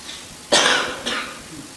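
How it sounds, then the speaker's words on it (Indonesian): A man coughs twice in quick succession, one harsh, close cough followed half a second later by a shorter, softer one, in a quiet indoor room. "memang agak batuk ini saya"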